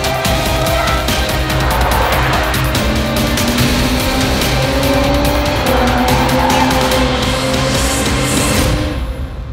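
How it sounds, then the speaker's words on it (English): BMW M340i thrown sideways through sharp corners on a track, engine roaring steadily while tires squeal in long, wavering screeches, loud and close throughout before fading at the end. "as you're pushing the car into sharp cornering and throwing it sideways"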